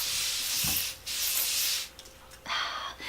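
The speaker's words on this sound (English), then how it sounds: "I'm gonna briefly show you the spray again. This one here is a White Lotus mist" Three short bursts of hissing White Lotus facial mist spray, each a second or so long, close up, with brief pauses between them.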